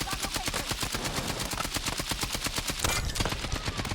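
Rapid gunfire from a KTS shotgun in a shooter video game, a dense string of loud sharp blasts in quick rhythm with no break.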